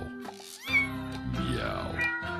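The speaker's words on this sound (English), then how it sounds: "Listen to the meows." A cat meows several times in quick succession, up close. The calls are drawn out and rise and fall in pitch, with a short pause near the start.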